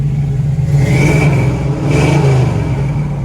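Engine running on a 1968 Chevrolet Camaro SS with a 350 V8, a loud, close, steady rumble with two rising swells as the throttle is blipped, no voices over it.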